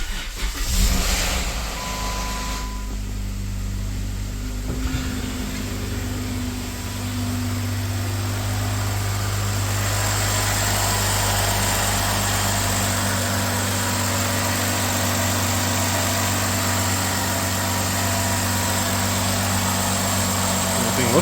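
Jeep Wrangler JK with a 3.6 Pentastar engine and a new lightweight crank pulley cranks briefly, catches and settles into a steady, close, loud idle that continues unbroken.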